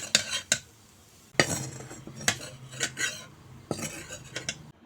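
Metal utensils clatter and scrape against a pan as fried potatoes seasoned with turmeric and salt are lifted out, with sharp separate clinks and stirring scrapes broken by short pauses.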